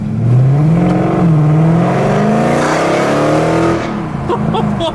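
A straight-piped Mercedes W204 C63 AMG with LT headers pulls away: its loud, close V8 growls and rises steadily through the revs before the note drops off as the car moves away.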